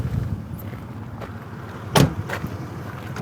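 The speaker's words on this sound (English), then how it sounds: "Just leave the vehicle running for now." A parked 1998 Toyota 4Runner idles by a lake, giving a steady low rumble with a single sharp click partway through and a fainter one after it.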